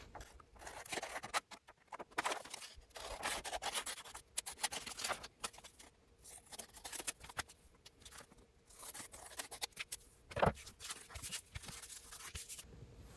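Scissors cutting out a paper card for a handmade interactive card, a close, quiet series of crisp snips and rustling paper in irregular bursts, alone.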